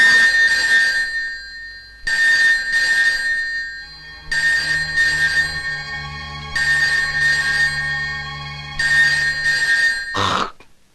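A telephone rings in a movie scene, with five loud ringing bursts of about two seconds each separated by short silences, close and clear, ending in a brief clatter as the ringing cuts off.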